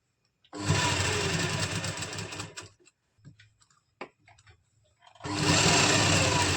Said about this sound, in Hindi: इस तरह से हम एक पाँव का मार्जिन छोड़ते हुए इसमें इलास्टिक को स्टिच कर लेंगे।